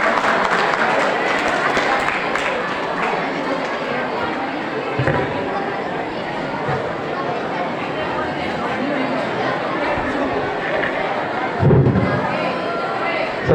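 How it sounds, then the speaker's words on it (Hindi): Audience applause welcoming Rajesh onstage at a 2024 farewell event, a dense, steady clapping wash lasting the full stretch, mixed with crowd chatter and voices, with a brief louder burst near the end. "जोरदार तालियों से उनका स्वागत करें"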